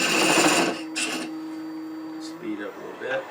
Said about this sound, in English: Use my beading and parting tool